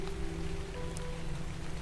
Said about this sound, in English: I don't know what's going to happen if it keeps raining.